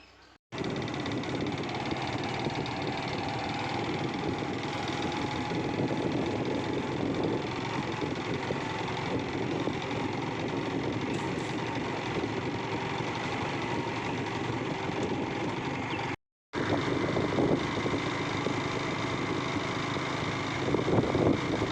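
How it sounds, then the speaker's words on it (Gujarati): A motorcycle engine kicks into life and runs at a steady, throbbing idle for a long stretch, cutting out briefly before catching again. "તો ચલો બાઇકને આપણે ચાલુ કરીશ"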